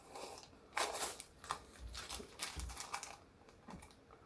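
Plastic Lego bricks, including 2x4 bricks, for a Kirby build are sorted and handled close up in a quiet room. Soft, irregular clicks and clacks are heard, with a few sharper taps and no talking.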